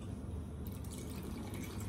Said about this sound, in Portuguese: Vou colocar um pouquinho de água aqui.